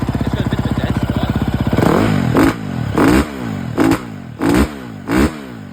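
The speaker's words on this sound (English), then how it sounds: "It's now idling fine now." A 2011 KTM 350 motorcycle engine, fitted with a replacement spark plug, idles with a steady fast thump, then is blipped several times in short revving bursts separated by brief drops back to idle, close and loud.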